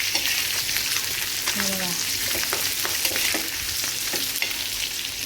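Sparrow meat, coated Agri-style in semolina for a crispy finish, fries in a pan with a loud, continuous sizzle and a few stirring scrapes. A voice briefly speaks.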